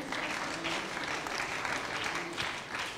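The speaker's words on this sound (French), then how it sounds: "C'est Loïc Rivalin qu'on peut applaudir." Faint, distant audience clapping at a science conference forum fills the short stretch with an even wash of applause.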